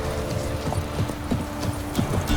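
Hooves of Roach, Geralt's horse in The Witcher 3, clop in a quick, steady rhythm over a low game hum, near and moderately loud with no talk.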